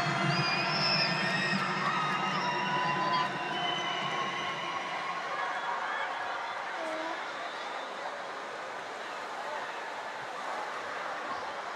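Crowd cheering and clapping for the pink team at a school sports-day cheerleading competition, loud at first and then thinning into a softer, murmuring crowd, with voices mixed in.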